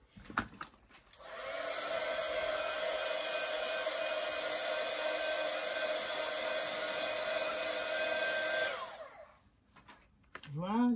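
A hair dryer blows on a stenciled card with a loud, steady whooshing roar that holds for about seven seconds and then cuts off, with brief handling noises before and after.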